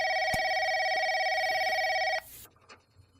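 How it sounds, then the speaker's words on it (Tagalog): A telephone rings indoors in steady, bright electronic trills for about two seconds, then stops, leaving a quiet room with faint shuffling. "Ay, tumutunog ang telepono"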